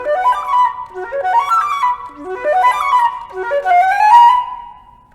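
A solo flute plays the closing lick of a Louisiana All-State technical etude, repeating the same rising scalar figure four times in a steady rhythm, close and alone before fading out.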